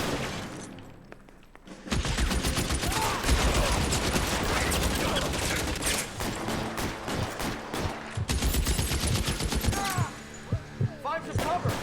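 A 1940s Los Angeles police shootout in L.A. Noire, dense rapid gunfire and booming shots erupting after a brief quiet start, sustained and loud with short gaps, a voice briefly heard in the mix.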